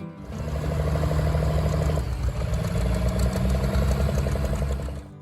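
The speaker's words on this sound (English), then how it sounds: "listen to the engine when idling" A D19 tractor engine idles with a loud, close, steady low rumble and rhythmic knocking pulses, with a slight shift in tone partway through.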